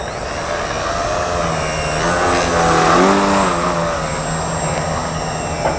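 A radio-controlled model airplane engine drones steadily through an inverted snap flip, its pitch wavering and briefly climbing mid-maneuver before settling back, fairly close and alone with no talk.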